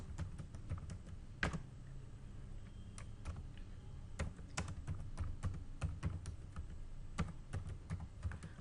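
Typing on a computer keyboard while writing Excel VBA macro code, a quiet, irregular patter of crisp key clicks with occasional louder strikes, close and alone with no voice.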